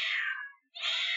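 Two synthetic cat meows from the CatBockes video game, one after the other with a short gap between them, loud and clear with no talking.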